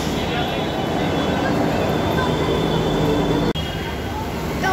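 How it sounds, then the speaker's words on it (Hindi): A Delhi Metro train rumbles loudly and steadily nearby, a constant roar with faint wheel squeal and a brief dropout near the end. "ये आई मेट्रो"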